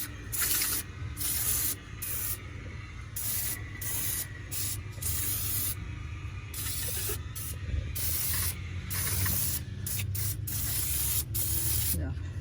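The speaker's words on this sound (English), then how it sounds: "I'm gonna use this engine degreaser by Gunk. I'm gonna spray the whole engine." Gunk engine degreaser sprayed in repeated long hissing bursts across the engine bay of a Mercedes C300, close and steady, with short pauses between sprays over a low background rumble.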